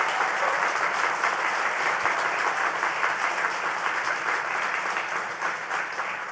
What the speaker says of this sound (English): Let's give Mr. Tucker a round of applause.